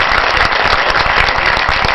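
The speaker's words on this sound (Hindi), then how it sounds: "एक बार पूरा सदन जगह जोरदार तालियां बजा दे इस बात पर" Audience at a Hindi poetry gathering (kavi sammelan) bursting into loud, sustained applause, dense steady clapping filling the hall without pause and no voices over it.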